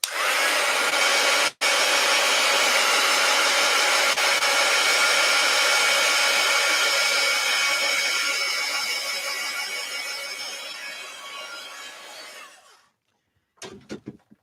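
A hair dryer blows on wet paint in an art journal, a loud, steady whooshing roar with one brief dropout early on. It runs for about thirteen seconds, tapers off, and is followed by a few short bursts after a pause.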